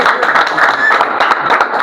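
Audience applause at a Rwandan performance of recited cattle poetry breaks out close and loud, a dense burst of clapping with crowd noise that continues steadily for the whole moment.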